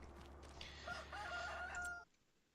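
A rooster crows in the Farming Simulator 25 farming game, one drawn-out cock-a-doodle-doo over a low steady hum, fairly close and clear, then it cuts off into near silence.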